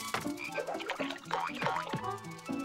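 Cartoon toads croak repeatedly in a busy, overlapping chorus, the deep rhythmic calls loud and close with no talking.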